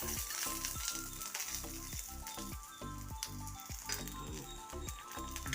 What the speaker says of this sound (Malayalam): അതിൻ്റെ കൂട്ടത്തിൽ ഒരു 4 പച്ചമുളക് കൂടെ ഇട്ട് കൊടുക്കും. അതിനെ ഒന്ന് മൂപ്പിച്ചെടുക്കാം.